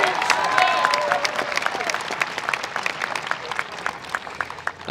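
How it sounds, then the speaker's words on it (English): Audience applause at a high school commencement ceremony for the student speakers: steady, dense clapping from a large crowd, fairly close and sustained, gradually thinning slightly toward the end. "Could I give another round of applause, please, to our amazing student speakers?"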